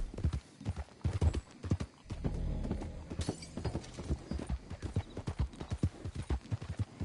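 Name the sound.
horse galloping in Red Dead Redemption 2 video game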